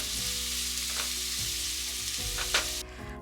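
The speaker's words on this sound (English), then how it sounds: "add a splash of olive oil followed by minced garlic and ginger" Minced garlic and ginger fry in a splash of olive oil in a pan, a loud continuous sizzle stirred now and then with a spatula, ending abruptly, with no voices.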